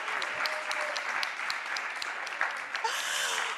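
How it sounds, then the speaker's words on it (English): Audience applause at a conference session on disaster risk reduction, a moderate, fairly quiet wash of clapping hands that carries steadily throughout with a few brief murmurs beneath. "So another round of applause, please."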